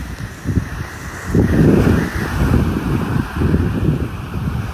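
Gusty sea wind buffets the microphone at Poro Point Boardwalk in San Fernando City, La Union, with rough, surging rumbles rising and falling over faint waves.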